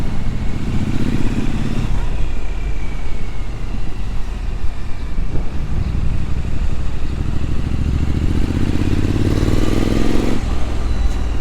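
A Triumph Scrambler motorcycle being ridden, its engine note droning steadily under heavy wind rush, with rising pitch sweeps near the start and end as the rider accelerates.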